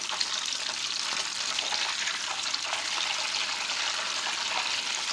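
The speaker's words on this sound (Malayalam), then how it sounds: "ചെറുതീയിൽ ഇളക്കി നെയ്യിനെ മൂപ്പിച്ചെടുക്കാം മൂട്ടുവരുന്ന നെയ്ക്ക് ഒരു കട്ടൻ ചായയുടെ കളറായിരിക്കും ചെറിയ പൊട്ടലും ചീറ്റലും ഒക്കെ ഉണ്ടായിരിക്കും" Butter browning into ghee in a pan over low heat gives a steady, close sizzle thick with fine crackling and sputtering throughout, with no voices.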